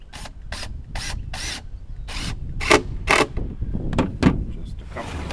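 Screws are driven into the lid of a bee swarm trap with a power driver, giving a run of short whirring bursts, some longer and louder, close up with faint handling noise between them.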